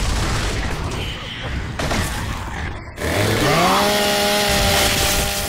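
A chainsaw from the 2006 video game encounter revs loudly and continuously with a harsh buzzing drone, its pitch rising into a steady whine in the second half, with some clattering mechanical noise earlier on.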